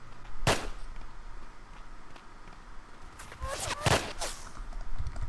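PPSh submachine gun fire in the online survival game Apocalypse Rising: a sharp shot early, then a tight cluster of several rapid cracks, with game ambience and a player's voice talking between them.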